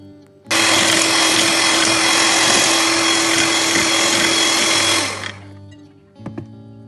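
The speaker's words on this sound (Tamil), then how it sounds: "பீட்டரில் ஒரு 2-3 செகண்டுக்கு கலர் சேஞ்ச் ஆகி க்ரீமி பதம் வர்ற வரையும் பீட் பண்ணிக்குவோம்" An electric beater whips eggs for a pineapple cake, a loud steady motor whine that starts abruptly, holds for about five seconds, then cuts off, followed by faint clinks.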